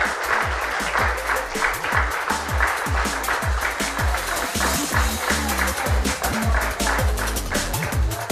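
An audience in Azul claps together in a dense, steady round of applause, close and fairly loud, sustained without pause across the whole stretch.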